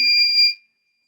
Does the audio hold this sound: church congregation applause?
no